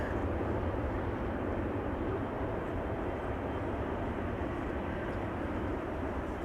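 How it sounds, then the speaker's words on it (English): An Emirates airliner lands at Amsterdam Schiphol, a steady broadband roar of engines and rollout heard from a distance, continuous and fairly faint with no talking. "Emirates flight 145 just touched down."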